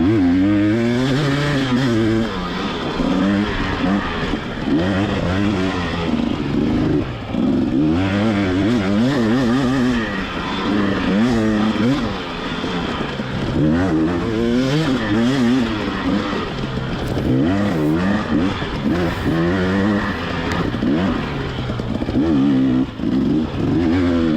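A motorcycle rides a rocky Pennsylvania trail, its engine droning loud and close for the whole stretch, with the throttle rising and falling in steady surges and no pauses.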